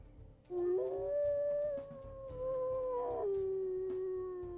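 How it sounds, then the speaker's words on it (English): A female wolf howls in the WolfQuest video game, one long sustained tonal howl that dips and shifts pitch midway, clear and fairly loud over a low ambient game background. "And we'll listen to her howls here too."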